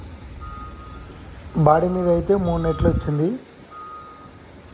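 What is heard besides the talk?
truck reversing horn beeping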